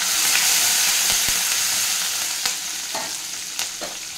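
Green chillies and curry leaves are stirred in hot frying oil, giving a steady bright sizzle throughout, with a few soft spoon scrapes and clicks near the end as the sizzle slowly eases.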